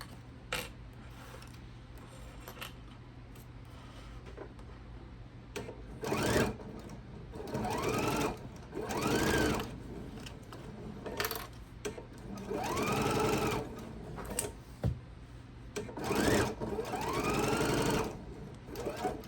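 A sewing machine stitches a scant quarter-inch seam along a quilt block edge in several bursts of rapid whirring, separated by quiet pauses, close and moderately loud.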